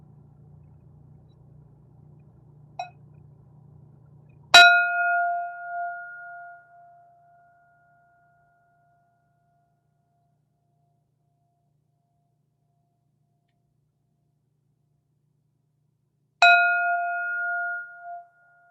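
A meditation bell rings twice, each strike a clear, loud metallic tone that hangs and slowly decays, the strikes about twelve seconds apart in near silence after a brief low hum.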